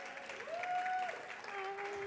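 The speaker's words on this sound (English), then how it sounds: "Give them a round of applause, please, guys." Audience applause for panelists at a live London talk event: a steady wash of many hands clapping for about two seconds, with a sustained musical tone running over it.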